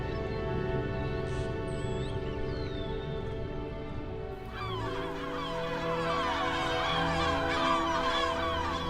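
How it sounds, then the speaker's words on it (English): Harsh, shrieking gull calls overlap in a noisy chorus around a rocky islet in the Canary Islands, growing busier partway through, with a rushing backdrop like wind or surf. "Shrieking gulls circle the Roque Chico de Samor."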